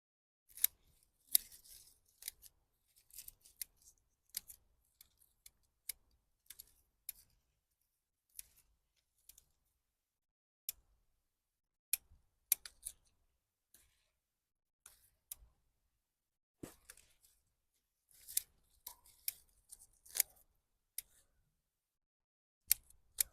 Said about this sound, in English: But for smaller trees like this, I prefer to cut them individually with scissors.